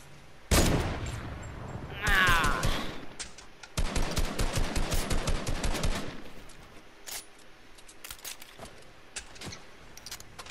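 Fortnite gunfire comes first as a loud opening blast, then a quick burst and a rapid run of evenly spaced shots that trails off into scattered, quieter pops farther away.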